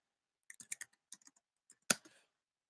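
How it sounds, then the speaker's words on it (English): Computer keyboard typing in a room: a quick run of about a dozen light key clicks in two bursts, then one louder sharp tap and a brief rattling tail, close and fairly quiet with no talking. "I'm just going to type something real quick."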